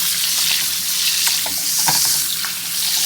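Cajun chicken breast frying in butter in a pan, a loud, close, constant sizzle with spattering pops as the meat is moved around.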